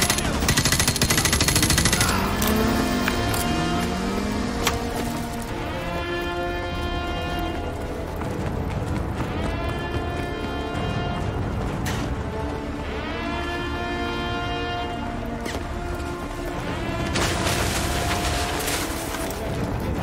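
Dense video game gunfire from Modern Warfare 2 Remastered rattles almost continuously for twenty seconds in rapid automatic bursts with booming impacts, loud and close, mixed with shouted voices.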